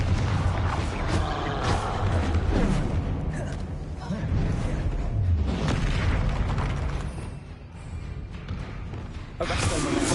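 A Confringo spell explodes in the video game Hogwarts Legacy, giving booming bursts and thuds during a fight with a troll, mixed with game clatter and a person talking over the action.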